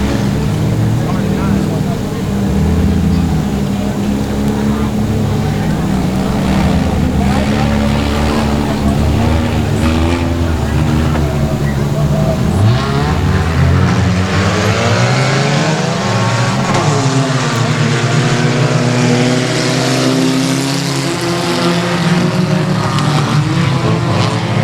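Four-cylinder race cars roar around Timberline Speedway, engines droning loud and continuous as the pack passes, pitch rising and falling with a Doppler sweep near the end, under steady announcer commentary.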